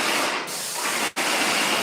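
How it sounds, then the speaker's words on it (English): A sprayer applies drywall finish in a new studio, a loud continuous close hiss with one very brief break near the end. "All right, so now Aaron's spraying it vertically."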